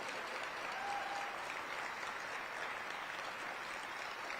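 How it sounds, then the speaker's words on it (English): A crowd applauds the Aurora Police Department at a State of the City address, producing a steady, even wash of clapping that holds at a constant level from start to finish with no voices over it. "Let's give APD a round of applause."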